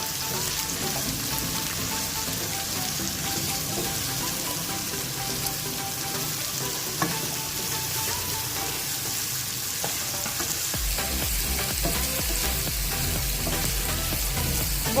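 Capsicum and cabbage fry for chicken fried rice, a constant crackling sizzle with stirring scrapes, steady and close throughout with no talk.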